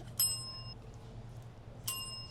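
A bicycle bell rings twice, two bright dings about a second and a half apart, close and clear over a quiet hum.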